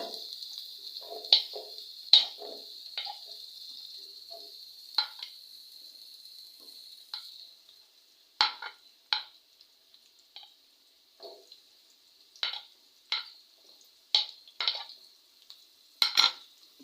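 Onions fry in hot oil in a kadai with a steady, bright sizzle, broken by repeated sharp scrapes and clinks of a spoon against the pan.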